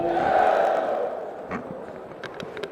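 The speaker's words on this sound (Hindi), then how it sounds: "जोरदार जयकारे के साथ" At a government water-conservation event in Panchkula, a large crowd lets out a loud collective cheer that swells at the start and then fades into scattered shouts and murmurs.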